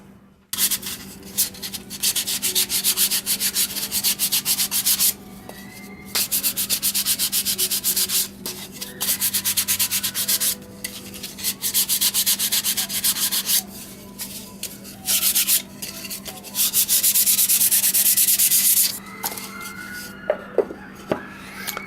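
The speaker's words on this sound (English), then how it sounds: "So now let's do some sanding and just smooth everything up." Hand sanding on wood: repeated rasping strokes in bursts with short pauses, close and steady, over a low constant hum.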